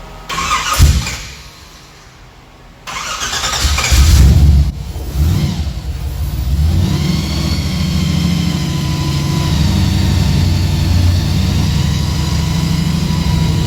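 A car fitted with a Turbo 400 transmission starts up right after an oil fill: a cranking burst, a pause, then the engine catches and settles into a steady, loud idle close by.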